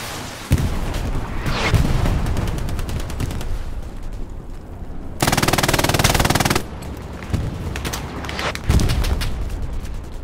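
Machine gun fire in Hell Let Loose, loud and close, with a sustained burst of rapid shots in the middle and scattered single shots and booms around it.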